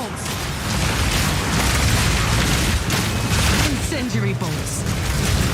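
Incendiary crossbow bolts burst in a steady run of booming explosions in the action RPG Path of Exile 2, loud and dense, with a voice speaking under the blasts.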